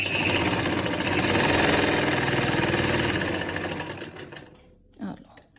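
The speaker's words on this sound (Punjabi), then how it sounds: "ਸਭ ਤੋਂ ਪਹਿਲਾਂ ਸਲਾਈ ਸੈਂਟਰ 'ਚ ਲਗਾਉਣੀ ਆ" An electric sewing machine stitches the centre of a lined kameez round neckline in a loud, fast, steady whir for about four seconds, then stops, followed by a brief low voice.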